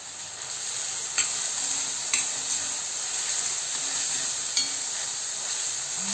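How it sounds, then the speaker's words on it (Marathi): Chopped onion sautés in a pan for a paneer dish, giving a steady moderate sizzle with a few light scraping stirs at intervals, close by and with no talking. "कांदा छान आता आपल्याला गुलाबी रंगावर परतून घ्यायचा आहे।"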